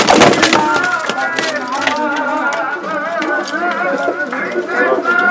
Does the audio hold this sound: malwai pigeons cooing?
yes